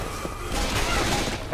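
Gunfire at the Tank in Left 4 Dead 2: a dense, continuous burst of game shooting with heavy low rumble, packed tightly over a short stretch.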